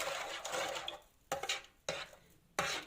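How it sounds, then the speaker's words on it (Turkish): A spoon stirs a yeast mixture in a bowl while making dough for soft potato-filled açma buns, giving a scraping, swishing sound in several separate bursts, close and fairly loud, with no talking. "Güzelce mayamı şöyle karıştırıyorum"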